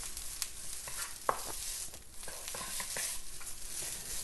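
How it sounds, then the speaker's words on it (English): Drained pasta tossed with a little sesame oil is stirred in a pot, soft scraping and light sizzling with small clicks of a utensil, close and quiet, no speech. "Just going to give it a little stir."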